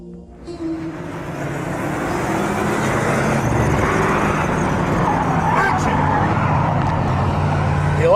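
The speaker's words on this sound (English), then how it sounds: "That's the Hollywood 180." A car spins through a Hollywood 180, the engine rising to a loud sustained roar and tires rushing across pavement close by, with a voice briefly audible underneath.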